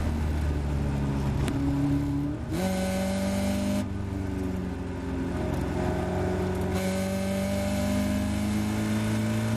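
A Caterham race car's engine drones and climbs through the gears on the Silverstone Grand Prix circuit, with rising whining pitch and brief drops at each shift, heard steadily from on board.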